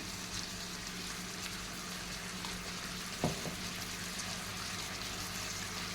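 Eggplant frying in oil with turmeric for a Seema vankaya fry: a steady, close hiss and sizzle with no pause, and one brief stir or clink partway through.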